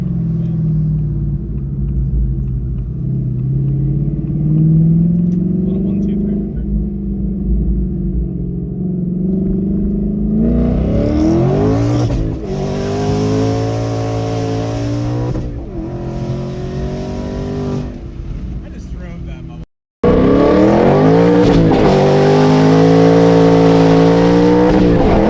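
Twin-turbo Ford S650 Mustang with an aftermarket exhaust, heard from the cabin while driving: a steady low drone rises into loud, repeated revving pulls with rising and falling pitch, a brief cut near the end, then another hard pull.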